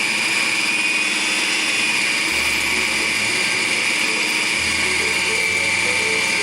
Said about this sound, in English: plus my egg white. We're gonna start to blend again together.